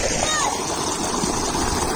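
Water splashes and trickles close by as a baby bird is given a drink, a brief wet splatter over a steady gurgle.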